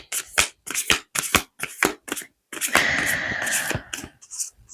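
Thick oracle cards are handled and shuffled close by: a run of quick, crisp riffling slaps, then a longer continuous shuffle, then a few more soft flicks.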